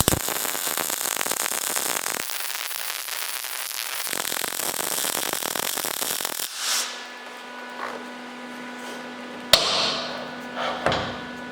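MIG welding a bead on scrap steel angle: a close, harsh, continuous crackling hiss of the arc, with short breaks, then stops, followed by quiet hum and a few sharp clanks.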